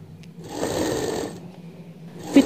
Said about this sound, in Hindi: अब हम जो है इसमें फिटिंग की सिलाई लगा देंगे।